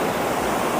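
A waterfall in Kerala gives a steady, dense roar of rushing water, broad and continuous at close range, with no voices over it.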